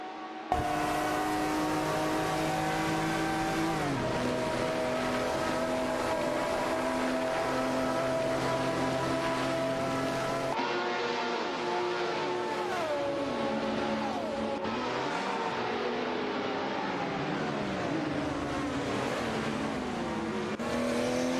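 Two simulated 1970s racing cars, an Alfa Romeo Tipo 33 TT212 and a Ferrari 312B, drone steadily through a video game race, their harmonic engine notes rising and dropping through gear changes with no break.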